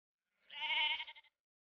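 One sheep or lamb gives a single wavering bleat, about a second long, clear and alone against silence, from sheep country in Idaho.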